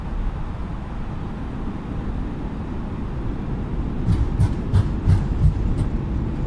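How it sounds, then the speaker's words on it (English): Airbus A330-900neo thrust reversers roaring after landing in Microsoft Flight Simulator, a loud continuous low rumble with a series of rhythmic thumps and clicks joining near the end. "Alright, we're on the ground. Reversers are out."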